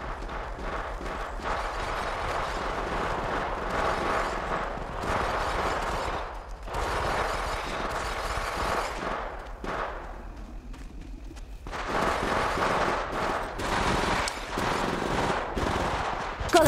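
Rapid gunfire from the mobile battle royale game Apex Legends Mobile, with dense bursts of automatic shots rattling almost continuously, broken by brief lulls, loud and close throughout.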